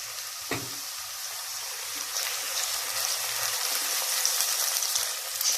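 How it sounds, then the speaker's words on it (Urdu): Ginger, garlic and chopped green chilli fry in a pan of oil for dal mash, giving a steady, close crackling sizzle with light stirring and a brief knock near the start, growing slightly louder throughout. "تو لہسن اور ادرک کو تھوڑا سا بھونیں گے"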